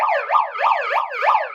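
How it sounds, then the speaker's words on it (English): A handheld siren noisemaker sounds for New Year, loud and close, its pitch rising and falling in quick repeated wailing sweeps, about four cycles with no voices over it. "And the siren."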